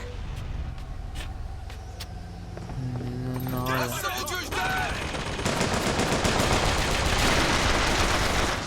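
Rapid gunfire in BioShock Infinite, bursts of shots mixed with game effects and a clip-clop rhythm, building into a dense, loud barrage in the second half.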